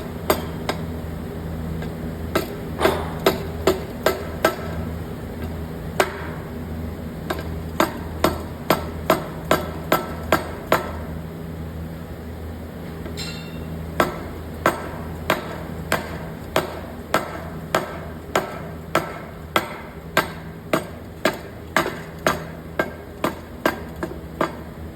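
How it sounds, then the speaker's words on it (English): Light hammer taps seat the timing cover and new crank seal on a 1976 Pontiac Grand LeMans 350 V8, a long steady series of sharp, close metallic knocks spaced about half a second apart with no talking. "I'm just going to go ahead and lightly tap everything in"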